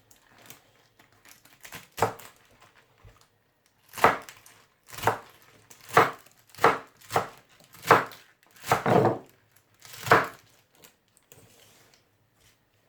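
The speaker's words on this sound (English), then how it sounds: "So I'm gonna chop that up." A knife chops through steak on a board in a series of sharp, separate thuds, about ten loud strikes with short pauses between them, close by and with no voices.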